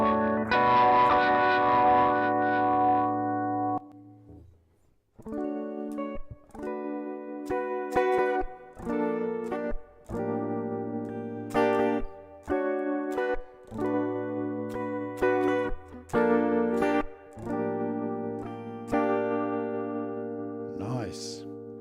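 A drum preset plays through an analog-style virtual effects chain in the IFX Rack iOS app, with repeated processed hits in a steady rhythm, distorted and tonal with chorus and echo, loud and close, no talking.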